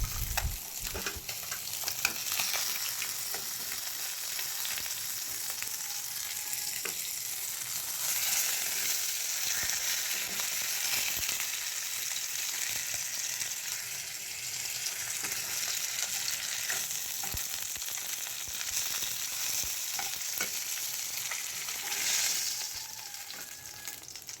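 Nigella seeds and green chilies tempering in hot oil left from frying katla fish, a quiet, continuous crackling sizzle with occasional stirring scrapes and no talking.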